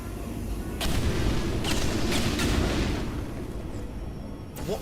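Repeated gunfire and heavy booms from video game turrets, a dense rumbling barrage with several sharp bursts standing out, fairly loud and continuous with no talk over it.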